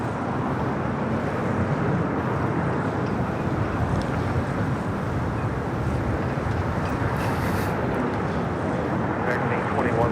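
Two China Airlines Cargo Boeing 777 freighters taxi at LAX, a steady broadband jet engine roar at moderate distance, continuous and even throughout, mixed with wind buffeting on the microphone.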